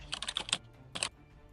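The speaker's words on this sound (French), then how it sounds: "vous allez juste taper" Quick bursts of keys tapped on a computer keyboard while typing into a search bar, one rapid cluster of keystrokes, a pause, then a second short burst, close and clear with no talking.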